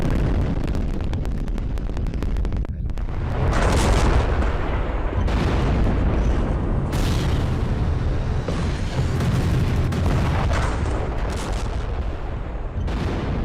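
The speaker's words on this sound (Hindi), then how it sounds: "ये देखिए, सीज फायर को ताक पर रखकर इजरायली बमबारी।" Explosions from Israeli bombardment in news footage make continuous loud, close rumbling with repeated heavy booms and blasts over roughly thirteen seconds, buffeted by wind noise and free of speech.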